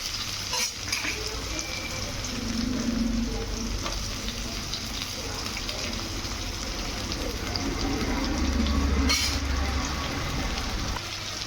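Sliced onion and a little fresh coriander frying in oil in a pan for a vegetable dish, giving a continuous close sizzle with occasional scraping stirs.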